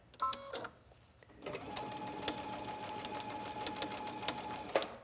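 A sewing machine with similar thread stitches down the trim of a bell sleeve and cuff, a close, steady mechanical rattle after a few brief starts and a short pause.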